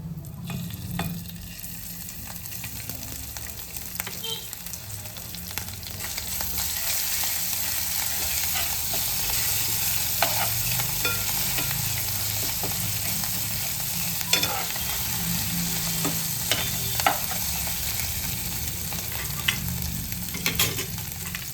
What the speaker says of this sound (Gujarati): આદુ લસણની પેસ્ટ ઉમેરી દઈશું